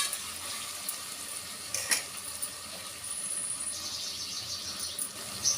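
Food frying in a pan gives off a steady, close sizzling hiss with faint crackles and clicks, continuous throughout with no talking.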